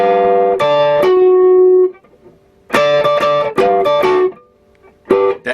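An electric guitar plays phrases from a song's lead break, with bright, clearly picked single notes and short runs separated by gaps of silence, loud and close.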